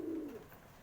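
A Madras breed pigeon utters a single short, soft coo at the start, low and faint, fading quickly into quiet room background.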